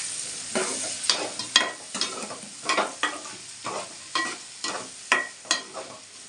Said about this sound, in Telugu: పచ్చిమిరపకాయలు ఉల్లిపాయలు వేసేస్తున్నాను.